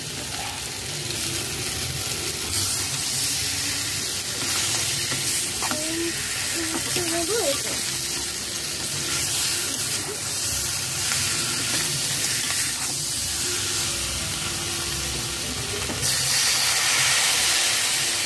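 Fried sea crab and fried potatoes go into spiced masala cooked down in oil, giving a steady, bright hiss and sizzle that holds for the whole stretch and swells slightly near the end.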